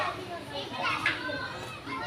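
Children play and chatter at a resort, a lively stream of young voices shouting and talking close by.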